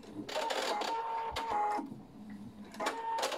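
A sewing machine stitches a seam on a silk pillowcase and ends it with a back-tack, giving whirring runs of rapid needle strokes broken by short pauses at a close, moderate level.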